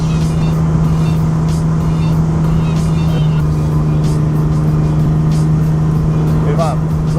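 Steady car engine drone with a constant hum while driving early in the morning to a drifting spot, loud and continuous, with people talking over it.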